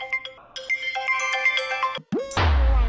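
A mobile phone ringtone plays loudly as a repeating melodic tone pattern for about two seconds. It stops abruptly, and a burst of broadband noise follows.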